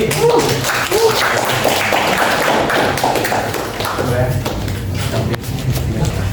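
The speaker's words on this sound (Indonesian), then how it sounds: "Nah, tepuk tangan untuk Raji." A classroom group applauds a student after a math presentation on derivative applications, a dense stretch of steady clapping with voices talking over it.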